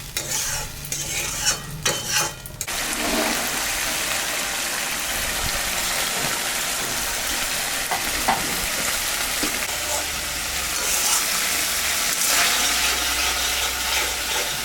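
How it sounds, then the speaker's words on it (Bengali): Spice paste sautéing in a pan with a splash of water for a yogurt-style katla fish curry, with steady frying hiss and scraping stir strokes, sharper and busier in the first few seconds, then an even sizzle throughout. "সামান্য একটু জল দিলাম। মশলাটা ভালো করে কষাতে হবে"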